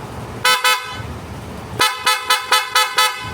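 A Honda Giorno scooter's PIAA horn honks close by: two short beeps, a pause, then a quick run of five sharp honks in a row.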